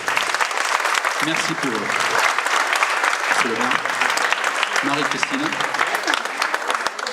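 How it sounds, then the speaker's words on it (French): An audience at a tribute ceremony in Marseillan applauds steadily, dense continuous clapping filling the room while someone speaks over it through an amplified microphone. "je pense, messieurs, dames, qu'on peut les applaudir"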